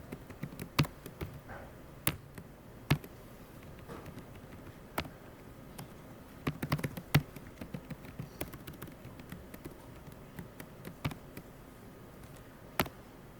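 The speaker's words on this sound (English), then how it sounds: "That's what I get when I talk and type at the same time." Light typing on a computer keyboard, sparse individual key taps and occasional clusters spread irregularly over a quiet room tone, fairly close but soft, with no talking.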